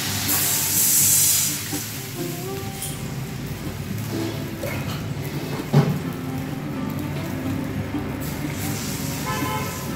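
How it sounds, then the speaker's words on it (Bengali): Water poured into a cooking pan for a Bangladeshi village-style raw hilsa fish curry, a steady splashing hiss lasting several seconds with one brief sharper splash midway, close and fairly loud. "জল দিয়ে দিলাম বেশি করে।"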